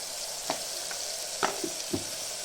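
Ginger garlic paste fries in hot oil for a trotter soup, giving a close, continuous sizzle with a few sharp spoon scrapes and taps as it is stirred, no voices.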